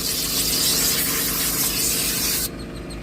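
A small air spray gun blasts dirt out of a car interior during detailing, a loud continuous hissing rush of compressed air that cuts off sharply near the end, leaving a quieter background.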